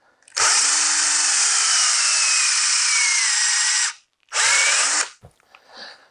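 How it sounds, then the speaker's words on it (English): A cordless drill with a Record SC4 chuck whines loudly and steadily into wood for several seconds, stops briefly, then bursts on again before cutting off. "let's see if this cordless drill has the power to get down in there"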